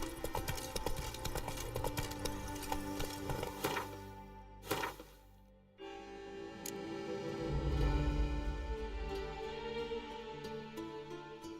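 Roach, the player's horse in The Witcher 3, gallops with steady clip-clop hoof beats over a dense game soundscape, broken by a short gap before the hooves resume.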